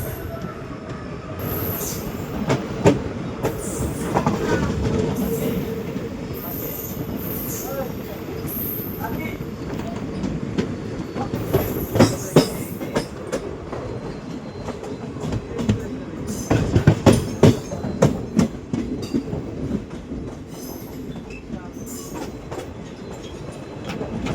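The Haldibari–New Jalpaiguri passenger train of Indian Railways runs steadily, its rumble, clickety-clack and occasional wheel squeals continuing throughout, with voices talking now and then in the background.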